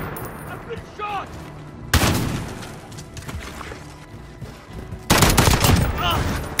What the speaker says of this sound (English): Cluster strike is go for launch.